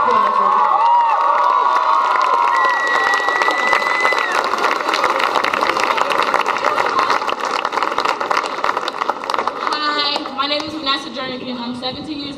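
A crowd at a Trayvon Martin march applauds and cheers loudly and continuously, with whoops and shouting rising over the clapping throughout.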